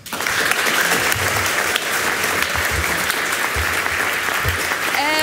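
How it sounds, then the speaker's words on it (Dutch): Sustained audience applause at a Dutch national student debate competition, steady and dense clapping from a crowd filling the whole stretch with no talk over it. "Hartelijk applaus."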